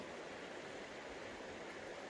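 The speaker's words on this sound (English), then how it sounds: "this incredible river that's flowing here behind me is, it's definitely not a raging river, but it's just very peaceful and meandering along" The Hoh River flows gently in a rainforest setting, a faint, steady wash of water. The rushing hiss is soft and distant, even throughout, with no voices.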